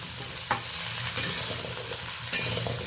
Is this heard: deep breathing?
no